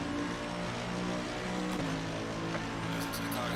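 Race car engine droning steadily through a lap of Watkins Glen in Assetto Corsa Competizione, a continuous loud tonal hum with a brief pitch shift midway, no talk.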